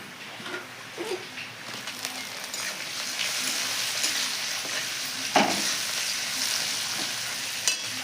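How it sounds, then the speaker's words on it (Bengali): Tomatoes fry into onion, ginger and garlic already browned in a pan, a soft continuous sizzle broken by several sharp spatula scrapes and taps as the mixture is stirred. "পেঁয়াজ আদা রসুন ভালো করে ভাজা ভাজা হয়ে গেছে এর ভিতরে এখন আমি টমেটো দিই"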